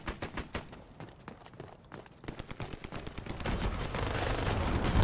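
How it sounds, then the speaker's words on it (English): EV turret gun in the shooter Dirty Bomb fires repeated shots, sparse and quieter at first, then swelling into dense, loud sustained fire. "Oh, it's the EV turret gun, that's why."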